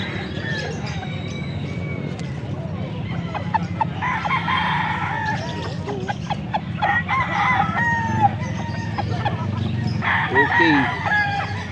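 A young rooster (stag) crows repeatedly among other fowl clucking nearby, with people talking in the background.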